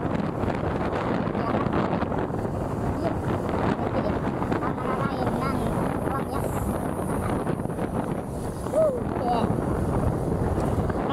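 Strong wind roars against the microphone while riding, a loud, steady rush that fills the whole stretch, with faint voices under it.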